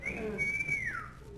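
A whistle sounds inside a house, a clear, fairly close tone that swoops upward and then glides slowly down, over a quiet background.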